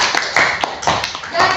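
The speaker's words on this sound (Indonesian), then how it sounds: "Ya, tepuk tangan untuk Kenzi." Children clapping hands in an elementary school religion class, a short ragged round of claps, close and fairly loud, arriving in uneven bursts with voices mixed in.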